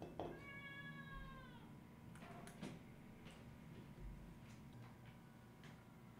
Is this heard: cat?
yes